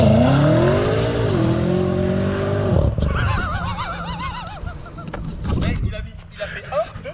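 BMW M5 tuned by Shiftech doing a launch control start: a loud engine holds high revs for about three seconds, then drops abruptly as the car launches, with rising gear pulls and voices talking over the rest.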